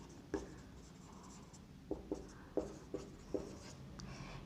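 Pen on paper while a Gauss's law equation is written in a physics lecture: a few faint, scattered taps and scratches, spaced irregularly in a quiet room.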